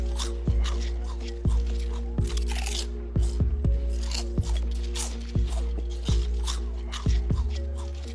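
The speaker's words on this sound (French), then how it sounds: "faut que tu mâches aussi fort" Crunchy chewing close up, repeated bites in an irregular rhythm over a faint steady hum.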